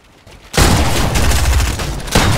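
Loud, close automatic gunfire in a Fortnite match erupts after a short quiet moment and rattles on in a dense continuous burst, briefly dipping before another volley, with no talking.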